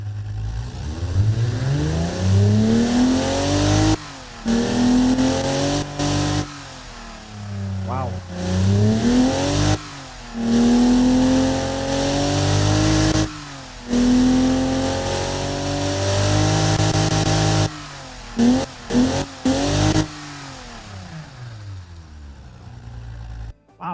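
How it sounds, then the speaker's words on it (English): 1960s-style car engine in the BeamNG driving game revving repeatedly, loud rising and falling bursts separated by abrupt cuts, with a man briefly exclaiming. "Wow, that's actually a beautiful sounding engine."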